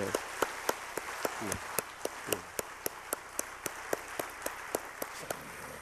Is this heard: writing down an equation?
no